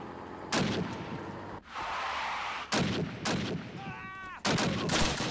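Gunfire in the video game Call of Duty, heard as repeated close bursts of rapid shots separated by short gaps, loud and harsh, with a faint ricochet-like whine among them.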